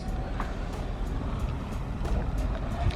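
A Pro Boat Veles 29-inch brushless RC catamaran speeds across the water, giving a steady, loud, unbroken rush of motor whine and spray noise that carries on without pause.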